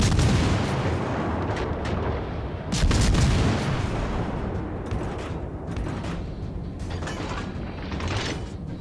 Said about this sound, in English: Got some shells flying.